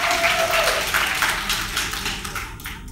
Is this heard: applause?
yes